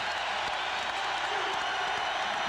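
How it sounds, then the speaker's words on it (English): An arena crowd at a 1997 Iowa State vs Baylor college basketball game roars loudly and steadily, a dense continuous wash of cheering with no gaps. "Crowd's into it now."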